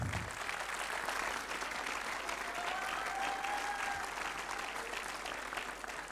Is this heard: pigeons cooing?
no